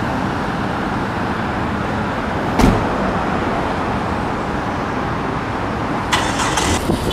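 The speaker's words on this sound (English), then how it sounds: "So right now I'm at the gas station and getting gas for my car." A car idles at a gas station while being refueled, with steady low roadway and engine rumble throughout, a brief sharp clunk partway in, and some light rattling near the end; no one speaks.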